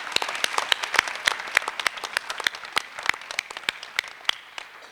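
An audience at a university competition final breaks into applause, a dense run of sharp claps that is loud at first and gradually thins and softens, with no talk over it.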